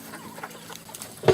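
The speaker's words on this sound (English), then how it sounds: "There's the roosters, the bantam roosters, so cute." Bantam roosters on a small farm, soft scattered clucks and short calls nearby, ending in a louder burst of crowing or squawking at the close.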